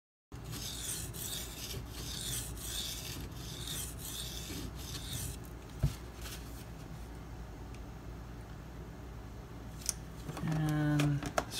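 Spyderco Paramilitary 2 knife in 52100 steel drawn across whetstones: faint, steady rasping strokes at a regular rhythm, fading toward the end, followed by a short tonal sound.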